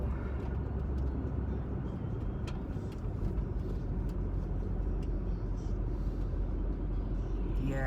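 A car drives steadily along a freshly blacktopped road, giving a continuous low rumble of engine and tires at close range with no talk throughout.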